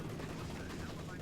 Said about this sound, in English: What's coming in right now? Oh, a strafing run.